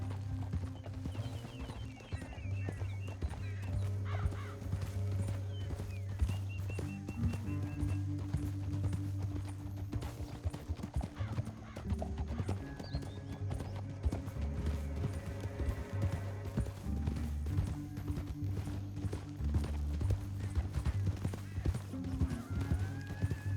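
Steady clip-clop of several galloping horses in Red Dead Redemption 2 under a constant rumbling game soundtrack, with occasional whinnies.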